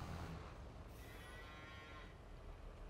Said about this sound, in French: mes petites vaches